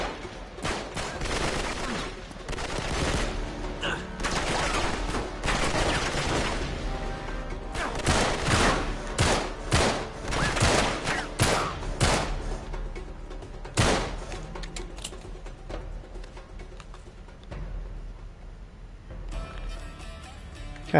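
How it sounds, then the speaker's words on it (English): Heavy gunfire from enemy soldiers in the action game Uncharted: dense bursts of automatic fire and scattered single shots crackle loudly and continuously, with a few sharper close cracks and thuds among them. "Stop shooting me."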